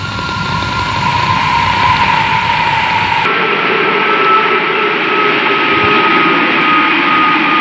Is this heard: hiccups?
no